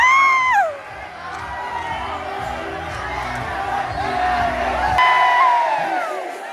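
A crowd of high school students cheers and shouts, the noise loud and sustained throughout, with high whoops and a sharp rising yell at the start.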